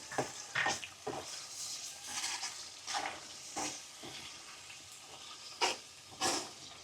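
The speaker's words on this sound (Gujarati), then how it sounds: "એક બે મિનિટ આવી રીતના હલાવવાનું ડુંગળીની ગ્રેવી સડી જાય" Quiet, intermittent scraping as a spoon stirs thick onion gravy with crushed peanuts in a pan, with soft sizzling between strokes.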